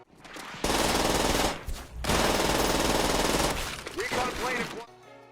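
PPSh submachine gun in Call of Duty firing long, loud continuous bursts, a short break between two sustained strings of rapid shots, then trailing echoes and brass clinks as firing ends.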